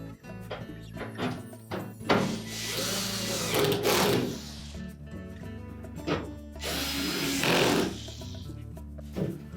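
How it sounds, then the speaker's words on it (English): A power screwdriver drives two screws to secure a Whirlpool dryer's front panel to the cabinet during blower fan replacement: two whirring bursts, each a couple of seconds long, separated by clicks and knocks of handling, close by. "We'll reattach the 2 screws for the front panel"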